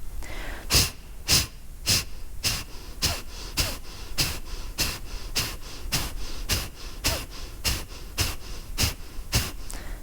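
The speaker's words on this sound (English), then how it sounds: "That's why it's called the breath of fire, because you're building that fire within your core." Breath of fire yoga breathing: a rapid, even series of about eighteen sharp, forced nasal exhales, close and loud, with no talking.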